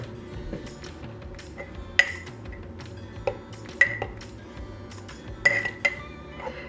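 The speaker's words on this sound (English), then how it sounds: "Okay, I'm just going to use a knife. I'll stir that up." A knife stirs einkorn sourdough starter in a jar, producing sporadic sharp clinks of metal against glass over a low, steady room hum, close and fairly clear, with no speech.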